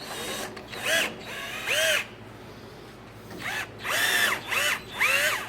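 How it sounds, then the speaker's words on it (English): Power drill driving wood screws into a tabletop during table assembly, several short whirring bursts that rise and fall in pitch, close and loud, with brief pauses between screws. "the next step is going to be to screw in the wood screws, 16 on this tabletop as there were on the previous two"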